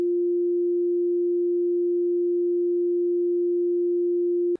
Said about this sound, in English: Now listen to a frequency of 350 Hz.